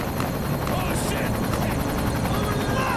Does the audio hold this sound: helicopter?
yes